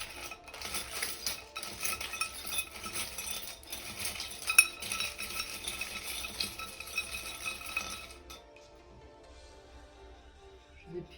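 Small metal charms being mixed by hand, a busy run of light clinks and jingles close up for several seconds, then dying away to near silence with only a faint trace of sound.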